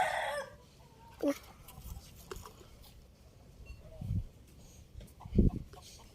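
Chickens cluck intermittently in a backyard pen at a Thai home, with a few sharp clucks standing out over a quiet outdoor background and faint voices.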